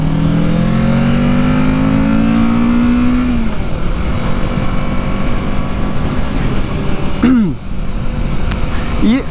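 A Kawasaki Ninja 650 motorcycle accelerates hard with rising engine pitch through the gears, then settles into a steady cruise before a brief pitch dip near the end, loud and close throughout.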